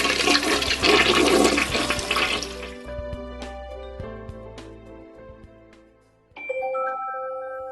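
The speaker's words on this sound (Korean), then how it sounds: "시원하게 물을 내려요." A toilet flush from a children's bath-time sound book toy: a loud rushing gush of water that gurgles and fades over several seconds, followed by a bright electronic chime melody.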